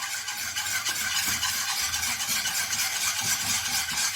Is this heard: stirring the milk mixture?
yes